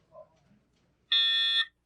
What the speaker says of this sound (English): the sound of your building's evacuation alarm